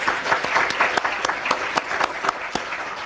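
An audience at a council reorganization meeting applauding the Assemblyman, many hands clapping close by with a few sharp individual claps standing out in a brief, lively round.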